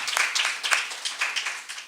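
Applause from an audience welcoming a panel at a talk series on reentry research and mass incarceration, a fairly soft, steady patter of many hands with no voices.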